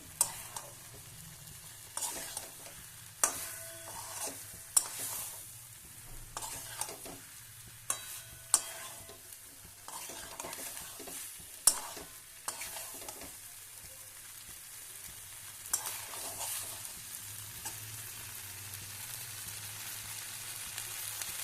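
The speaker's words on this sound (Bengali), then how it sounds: "ফুলকপিটা দিয়ে মশলাটা মাখিয়ে নিচ্ছি" Cauliflower pieces are tossed and stirred with spice paste in a hot pan, giving a soft continuous sizzle under repeated scraping and clattering strokes of a spoon, close by with no talking.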